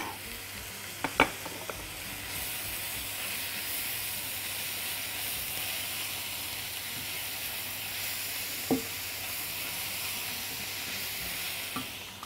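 Onions frying in oil with black pepper and salt give a faint, steady sizzle as they are stirred, with a few sharp clinks of a utensil against the pan.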